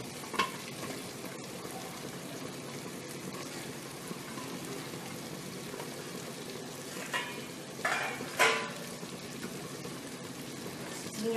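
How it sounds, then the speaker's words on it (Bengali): Spices fry in a hot pan for a snake gourd and prawn dish, crackling in a steady close sizzle, with a few louder scraping stirs breaking through near the end. "মশলাটা আমি এইভাবেই ভাজছি।"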